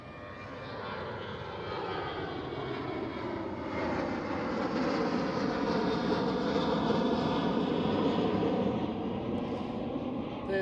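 A Transavia Boeing 737 takes off at Amsterdam Schiphol, its jet engines a broad continuous roar that builds and sweeps with shifting tones over about ten seconds, loud and steady, with no voices.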